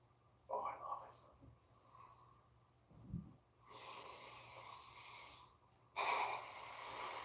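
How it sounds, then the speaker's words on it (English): Breathwork exercise in which air is pushed out through pursed lips, giving several soft, breathy exhalations with near, hissing bursts separated by quieter pauses. "Now this time I'm using my lips to breathe out to make it harder to breathe out."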